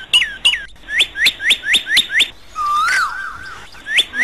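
Adarna bird singing as a story sound effect: a rapid series of bright, clear chirps repeated in a steady rhythm, then a brief warbling whistle and more chirps, close and alone.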